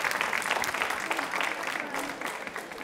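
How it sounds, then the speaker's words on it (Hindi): Sustained clapping from an audience at a women's association quiz show, a dense, even wash of hands that holds steady before easing slightly near the end. "देखिए साहब तालियां तो जोरों से बजनी चाहिए,"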